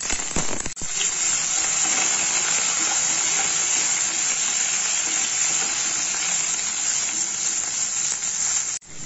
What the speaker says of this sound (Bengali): এবার এই তেলের মধ্যে আমি আলুগুলো দিয়ে দেব।